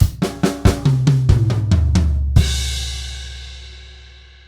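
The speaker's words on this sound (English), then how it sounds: "we've got a bass drum playing the upbeat of 4 with the crash" Drum kit bar from a rock song: a run of evenly spaced kick and snare hits, then a loud crash cymbal with bass drum pushed on the upbeat of four, ringing out and slowly decaying alone.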